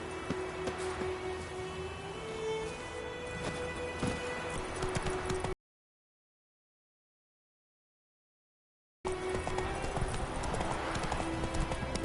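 Hooves of Roach, Geralt's horse in The Witcher 3: Wild Hunt, clip-clop at a steady gallop, loud and close, cutting out for a few seconds of silence midway before resuming.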